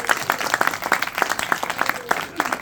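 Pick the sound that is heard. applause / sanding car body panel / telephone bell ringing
applause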